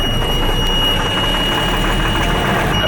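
A fire truck engine that has sat unused runs at a rough, heavy idle, a steady loud rumble with knocking texture and a high whine above it.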